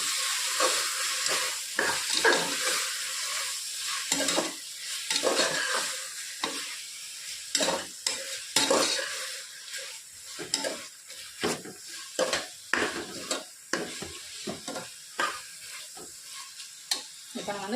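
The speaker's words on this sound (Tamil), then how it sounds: "இப்போ அதை நல்லா மிக்ஸ் பண்ணிக்கலாம்" A spoon scrapes and stirs a curry mixture in a hot frying pan, with repeated rhythmic strokes over a steady sizzle and hiss, close and loud with no voices.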